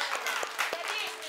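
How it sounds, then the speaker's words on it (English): A class of children clapping when asked if they are happy, a short scatter of separate hand claps at uneven intervals over murmuring voices and chatter, close and moderate in level. "Si vous êtes content, on applaudit."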